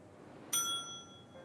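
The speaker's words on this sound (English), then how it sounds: "I'm gonna ring the death bell and smile." A single bright bell ding rings out in the video game Rue Valley, a clear struck tone that lingers and fades over about a second against a quiet background.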